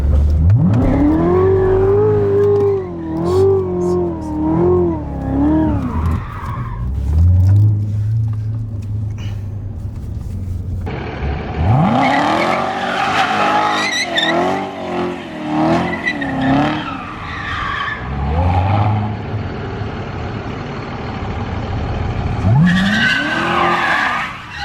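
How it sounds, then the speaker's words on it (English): A Corvette Z06 revs hard and its tires squeal in long, loud, wavering screeches during a burnout, with the engine rising and falling through repeated bursts and no talking. "Are you ready to burn out these tires and go get new ones?"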